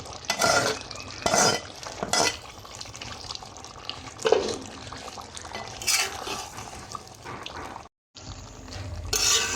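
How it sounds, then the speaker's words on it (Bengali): Fried potatoes and papaya go into a cooking pot and are stirred, giving repeated scraping strokes and a soft sizzle, with wet stirring bursts spaced across the stretch and a brief gap of silence near the end. "ভেজে রাখা আলু, পেঁপে দিয়ে দেব।"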